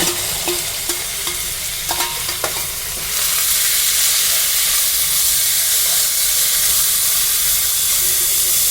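Fresh coriander and curry leaves hit hot oil and burst into loud, steady frying. A few crackles and stirring clatters come first, then the dense hiss builds and holds, with no voice over it.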